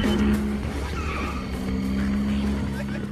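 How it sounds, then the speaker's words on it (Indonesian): Racing cars pull in with tires squealing and skidding over roaring engines, a loud continuous screech up close, taken from the film Fast and Furious (2001). "Tidak berselang lama, datanglah teman-teman Dom dengan mobil balap mereka."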